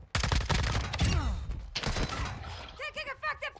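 Rapid bursts of SMG gunfire in a Call of Duty Warzone match, an FSS Hurricane build, crack out loud and close in quick volleys, mixed with game effects and brief voice chatter.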